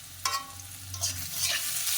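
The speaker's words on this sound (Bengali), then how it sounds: "এই জন্য আলু ভাজা করছি।" Potatoes fry in a pan, a soft continuous sizzle broken by a few sharp scraping stirs of the utensil against the pan, close by with no speech.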